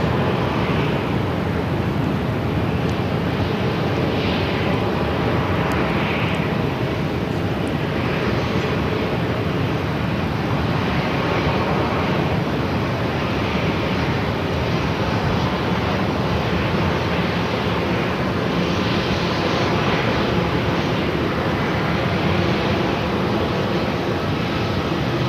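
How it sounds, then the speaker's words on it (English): An Air Canada A330-300 airliner pushes back from the terminal at Phoenix airport, a steady, broad engine roar that holds constant throughout without any talk. "Also seeing the Air Canada A330-300 now pushing back from Terminal 3"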